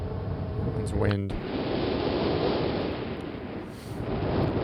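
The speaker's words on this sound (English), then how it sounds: "It's wind." A steady broadband rush of wind fills the scene in the Myst PC game, holding constant throughout, with a brief tonal game sound near the start.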